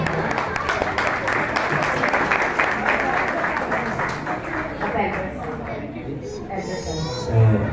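Audience applause at a church ministry gathering, a steady crowd of clapping that holds fairly loud and even throughout, with some murmured chatter and children's voices mixed in, thinning slightly toward the end.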